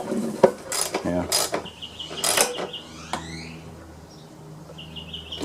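A self-propelled lawn mower's front drive part snapped back into place by hand, giving a few sharp plastic clicks and knocks in a quick cluster up close, then quieter fiddling noises.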